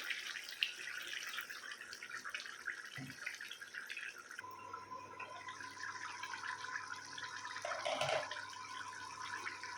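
Spiced masala water poured into mutton keema fry in a pan, a steady running, splashing pour that carries on for several seconds at close range, with no voices.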